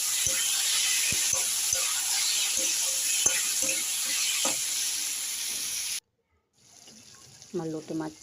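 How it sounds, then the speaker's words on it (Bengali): Bombay duck (lote) fish frying in oil gives a steady sizzling hiss with scattered soft pops and taps for six seconds, then stops abruptly, followed by a quieter hiss and a short spoken voice. "এবার আমি লোটে মাছগুলো দিয়ে দেবো।"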